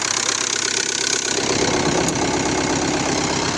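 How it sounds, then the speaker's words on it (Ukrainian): A 2.0 TDCi diesel engine in a Ford Mondeo Mk3 idles steadily up close, with a fine rhythmic ticking knock from its injectors running through its low rumble. "Ну мотор робить добре, нема що втіти, але чути, що токають форсунки."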